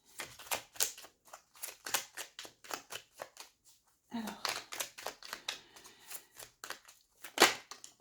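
Tarot cards are shuffled and drawn by hand, a rapid series of close, crisp riffling flicks and snaps with a brief pause midway, then more shuffling and a sharp final slap, with no talking.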